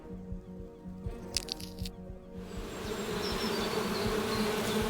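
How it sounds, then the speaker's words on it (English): Bees buzz in a point-and-click video game, a steady insect drone under a low musical bed that swells and thickens in the second half. "The bees seemed bothered by my gesture."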